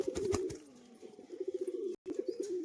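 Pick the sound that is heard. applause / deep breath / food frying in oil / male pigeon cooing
male pigeon cooing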